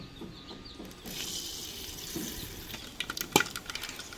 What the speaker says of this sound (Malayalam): കടുകൊക്കെ നന്നായിട്ട് പൊട്ടുന്നുണ്ട്.